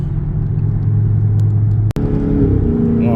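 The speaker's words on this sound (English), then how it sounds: "So maybe you can get a little bit of exhaust note out of this thing" Dodge Charger Super Bee engine and exhaust drone steadily in traffic, a low, loud rumble with rising revs, broken by a brief dropout near the end before the note resumes.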